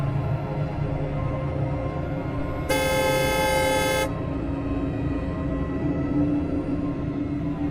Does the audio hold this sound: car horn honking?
yes